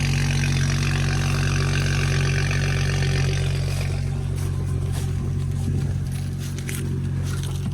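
BMW F30 335i with catless downpipe and resonator delete idling loud and near with a deep droning exhaust, then crackly pops and a slight rev toward the end.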